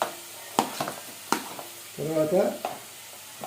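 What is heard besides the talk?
capsicum and vegetables sizzling while frying in a pan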